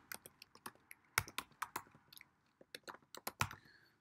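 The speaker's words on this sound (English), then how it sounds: "you're going to go ahead and type in sales projections or projected sales" Computer keyboard keys tap in quick, uneven bursts, soft and close, as someone types entries into an Excel spreadsheet.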